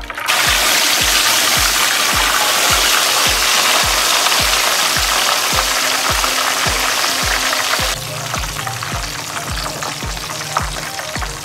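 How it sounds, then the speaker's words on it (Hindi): A piece of chicken chargha fries in hot oil with a loud, dense, continuous sizzle, and a regular rhythmic tapping runs underneath. The sizzle eases slightly partway through. "अभी हम दूसरा पीस इसमें डालेंगे, वो फ्राई करेंगे।"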